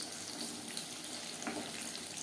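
Paneer chops fry in hot oil over a medium flame, giving a steady, fairly quiet hiss of sizzling with small crackles throughout and no talking.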